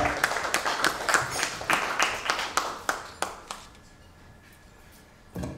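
An audience claps at the Polinews 22nd-anniversary ceremony, a close run of sharp, separate claps that thins out after about three seconds and leaves near-silence, with one last clap at the end.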